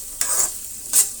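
Egg masala omelette mixture frying in a pan: a close, bright sizzle broken by two quick stirring scrapes about three quarters of a second apart, with no voices.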